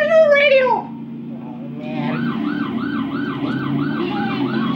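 A police car siren in GTA San Andreas wails, rising and falling repeatedly over a steady engine hum, following a brief burst of speech at the start.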